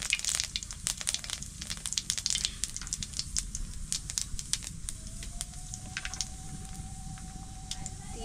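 Whole cumin seeds crackling and sizzling in hot mustard oil for a fish curry, a steady close frying hiss with scattered sharp pops throughout and no talk.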